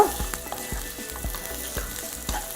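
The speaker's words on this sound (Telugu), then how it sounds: "కొంచెం బ్రౌన్ కలర్ వచ్చేదాకా మనం దీన్ని ఫ్రై చేసుకుందాం" Onions fry in oil in a pan for drumstick chicken curry, a dense continuous sizzle close by with regular scraping stirs at roughly half-second intervals.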